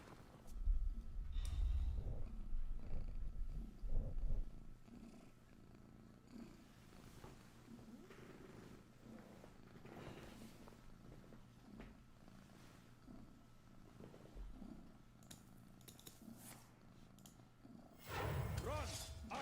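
A cat purrs close to the microphone, a soft rhythmic rumble with louder bursts near the start and end, while a voice speaks quietly at times.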